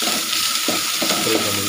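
Amurthavalli (Indian borage) leaves fry in a hot pan, a steady close hiss with a couple of quick stirring scrapes over the short span.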